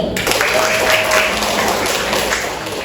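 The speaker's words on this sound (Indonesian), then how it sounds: "ya tepuk tangan untuk penampilan teman-teman kita hari ini" A room full of people applauds steadily after a classroom performance, a dense wash of clapping that carries on throughout.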